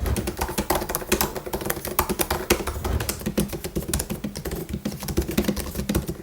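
Rapid, continuous typing on a 2018 MacBook Pro 13-inch keyboard, close and clear, with a busy, noisy clatter of key presses and no speech.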